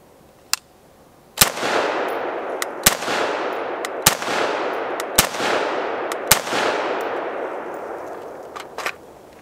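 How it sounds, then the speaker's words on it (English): Five sharp, loud rifle reports from an AR-15 with a 16-inch 5.56 barrel and YHM flash hider firing 55 grain Hornady Frontier, each crack trailing into a long outdoor echo, spaced about a second apart, plus a faint distant shot. "I'm shooting some 55 grain Frontier from Hornady."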